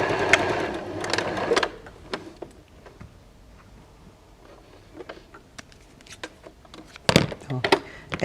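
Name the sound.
sewing machine stitching fabric patchwork seam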